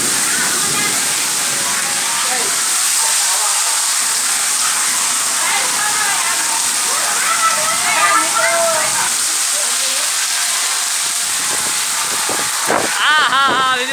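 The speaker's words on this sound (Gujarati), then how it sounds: "હા વીજળી ચમકારા સાથે વરસાદ પડી રહ્યો છે।" Heavy rain driven by strong wind pours steadily in a village during a thunderstorm, a loud constant wash with gusting surges throughout; no distinct thunder cracks stand out.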